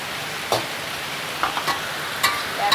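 Squid with green chili and bell pepper frying in a pan, a steady sizzle with occasional scraping clicks of a spatula as it is stirred, close and moderately loud with no talk.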